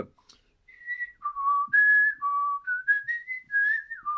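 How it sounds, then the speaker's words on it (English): A person whistles a melodic tune from Phantom of the Opera, clear and close, sustained notes stepping up and down with short breaks between phrases, alone without talk. "I have a couple go-to tunes that I whistle"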